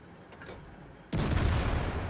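A tank's main gun fires in World of Tanks, one sudden loud booming blast followed by a sustained rumbling roar after a quieter stretch of game noise.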